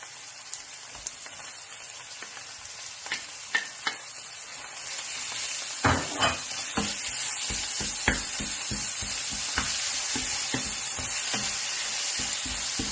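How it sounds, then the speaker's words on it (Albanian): Minced meat and chopped onion fry together in a pan, a soft continuous sizzle broken by a series of sharper scraping stirs and clatters, close and alone with no talk. "Tashi hedhim mishin e grirë, pjesë, edhe I skuqim bashk me qepën."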